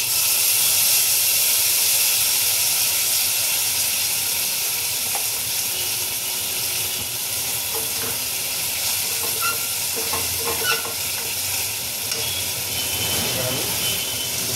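Tomato sauce sizzles in a hot pan while chilli mushroom cooks, a continuous close hiss and crackle with occasional stirring scrapes and bursts of spatter, and someone speaks over it.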